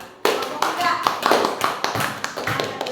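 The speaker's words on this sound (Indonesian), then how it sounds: "Tepuk tangan buat kelompok 4." Classroom children clapping for a group of sixth-grade classmates, a burst of close, irregular hand claps that starts abruptly and keeps going unevenly, with young voices chattering underneath.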